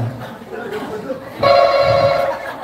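A telephone-like ring from some device sounds as a steady electronic tone for about a second, loud and close, at a party with people talking around it.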